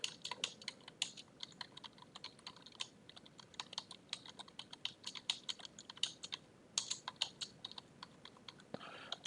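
Rapid, uneven clatter of fingers typing on a computer keyboard, close and quiet, with bursts of keystrokes and brief pauses.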